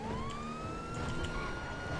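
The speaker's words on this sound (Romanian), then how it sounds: "se aude și afară în viața reală sirena" A real emergency siren outdoors, heard during an online GTA V multiplayer session, rising and wailing steadily at moderate loudness over a dense background.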